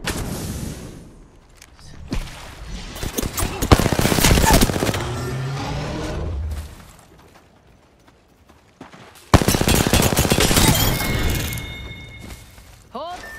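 Apex Legends gunfire comes in two dense, loud automatic bursts with thuds and impacts, separated by a quieter gap, while game character voice lines play over the shooting.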